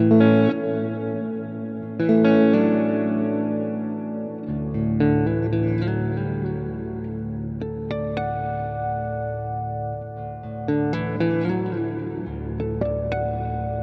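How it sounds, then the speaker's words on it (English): Guitar chords through an EarthQuaker Devices Avalanche Run plate reverb with slight modulation ring out one after another, each swelling into a lush, shimmering reverb tail that lingers and slowly decays. "So it's a plate reverb that has a little bit of modulation on it."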